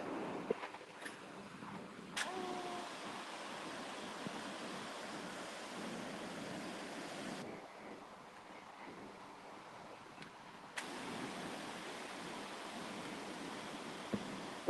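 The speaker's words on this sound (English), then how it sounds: "Ooh, it's windy." Steady wind gusts across a beach, a broad continuous rush with surf-like wash underneath, a couple of brief knocks of wind buffeting the microphone, no talking.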